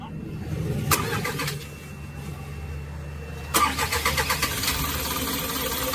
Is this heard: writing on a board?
no